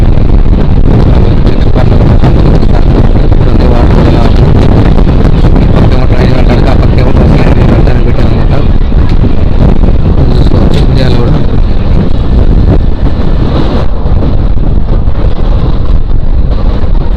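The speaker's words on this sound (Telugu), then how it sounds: "ఇదిగోండి ఫుల్ గాలి వస్తుంది" Strong wind roars steadily across the microphone, a loud, constant buffeting rush with no pauses for the full stretch.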